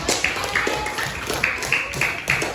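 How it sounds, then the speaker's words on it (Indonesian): Primary school pupils clap together in a classroom, a quick rhythmic pattern of sharp, loud, evenly spaced claps repeated close by. "Tepuk tangan dulu untuk"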